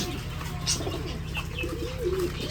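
Pigeons coo softly in a nesting area, low warbling calls rising toward the end, near but gentle over a steady low hum with faint chirps in the background.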